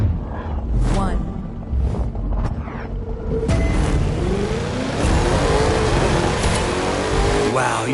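A sleeper car in The Crew 2 racing game revs hard, its engine roar rising and holding loud beneath a rushing, wind-like noise.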